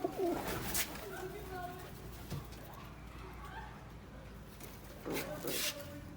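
Pigeons, a newly acquired male and female, cooing softly at close range in a quiet indoor space, low repeated coos with a few wing and shuffling sounds and faint background noise.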